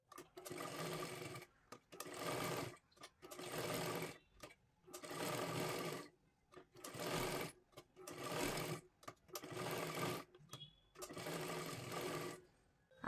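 A sewing machine runs stitches along the very edge of a child's lehenga dress, in about eight loud bursts of steady whirring separated by short pauses, close up with no talking.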